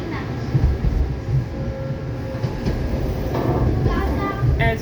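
WMATA 7000 series Green Line metro train riding toward Branch Avenue, a rumbling rolling roar inside the car with occasional rail clatter and an onboard announcement voice over the steady noise.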